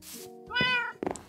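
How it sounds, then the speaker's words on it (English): A tamed cat in a video game gives a single clear, close meow with a rising then falling tone, followed by a short muffled bump, with no talk over it. "Mr. Cat, come over here."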